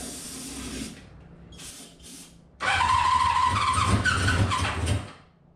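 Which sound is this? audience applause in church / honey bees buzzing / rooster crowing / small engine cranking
small engine cranking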